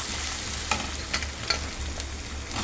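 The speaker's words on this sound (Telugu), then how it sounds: "ఇప్పుడు కాకరకాయ ముక్కలు కూడా వేసేస్తున్నాను." Pieces of bitter gourd (boda kakarakaya) hit a pan of sizzling onion paste and turmeric and are stirred, giving a steady close fry with a few sharp scraping clacks of the spoon, no talk.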